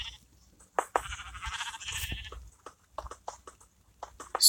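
Sheep on an automatic sheep farm in a block-building survival game bleat in short, repeated bursts, one drawn-out call among them, clear and fairly close.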